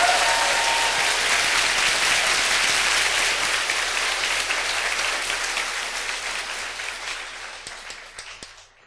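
Church audience bursts into loud, dense applause as praise to God, sustained for several seconds before gradually thinning and fading out toward the end.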